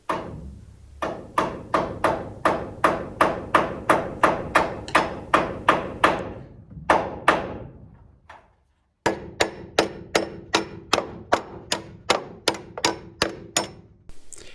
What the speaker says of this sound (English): By moving all of these truss brackets up and nailing them in